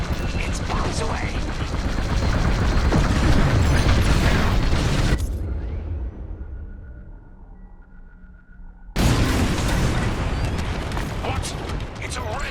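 Bombs exploding in the space-combat video game Star Wars Squadrons, a loud, sustained rumbling barrage of blasts. It cuts to a quieter hum partway through before the heavy noise returns.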